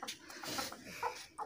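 Hens clucking close by in short bursts, with a rooster's call standing out among the noisy farmyard sounds.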